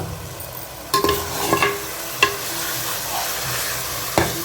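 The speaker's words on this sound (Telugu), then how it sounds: "మనం కలిపి పెట్టుకున్న చికెన్ వేసుకుందాం. ఒకసారి కలుపుకుందామండి మొత్తం." Marinated chicken goes into a pan with chukkakura leaves and gets stirred through, giving a soft frying sizzle with a few clattering spoon strokes against the pan, close and with no talking.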